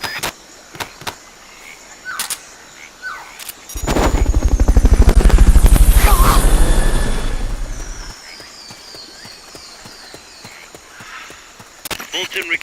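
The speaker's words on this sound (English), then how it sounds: "Fulton recovery subject confirmed onboard helicopter." Helicopter in the video game Metal Gear Solid Peace Walker, its rotor thump building up loud and close over a few seconds and then fading away, framed by sparse game sound effects before and after.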